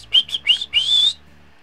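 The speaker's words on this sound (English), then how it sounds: "Whistle for my horse." A series of short rising whistles to call a horse in Red Dead Redemption 2, four quick bursts ending in one longer sustained whistle, loud and close, then quiet.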